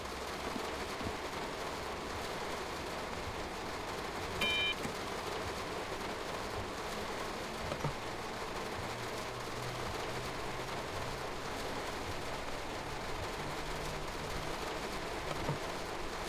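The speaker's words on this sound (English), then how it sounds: "Oh, the rain is so loud." Steady rain falling in the train simulator Train Sim World 3, a constant even patter with a low rumble of the train underneath, no speech.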